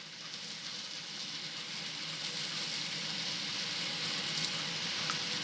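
Onions and breakfast fried rice ingredients frying in a pan, a steady broadband sizzle that holds close and even throughout, with no talking over it.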